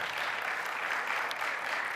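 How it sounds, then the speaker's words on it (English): A church town hall audience claps for the church staff, a brief, dense burst of steady applause from many hands that carries on without a break for its whole length. "If you can give your staff a clap."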